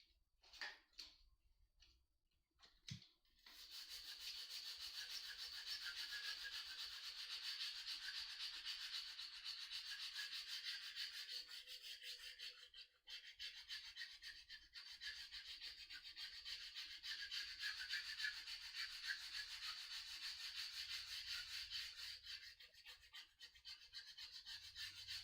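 Steady abrasive rasping of sandpaper working a handmade mushroom hunting knife, a continuous close scratchy rubbing that runs for over twenty seconds after a few short taps, with only brief pauses and no talk.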